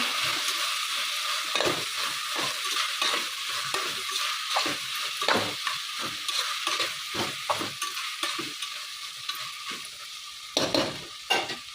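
Turmeric frying in oil inside a pressure cooker for vangi bath, a steady bright sizzle with repeated scraping stirs of a spoon against the pot throughout, close and continuous, with no talking.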